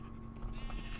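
A sheep in the Minecraft video game gives a short, faint bleat over a steady low background hum.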